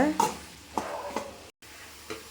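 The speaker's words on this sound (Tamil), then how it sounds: "இப்படி நல்லா கிண்டுன்றணும்" Beans and egg stir-fry being stirred in a pan, with a few scraping strokes over a soft sizzle and a brief cut to silence partway through.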